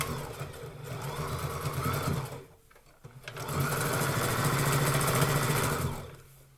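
A sewing machine runs steadily up close while stitching down the sides of a pair of pants, a continuous mechanical whir that drops out briefly around the middle before resuming for a longer, even run.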